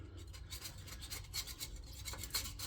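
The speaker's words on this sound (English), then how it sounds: "I'm going to go ahead and use a putty knife." A putty knife scrapes old gasket material off a Raptor's rear differential in short, raspy, repeated strokes, close and fairly quiet with no talking.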